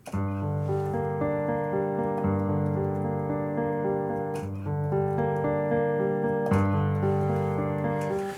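Sustained piano chords ring out one after another, shifting every couple of seconds, full and steady with no voices.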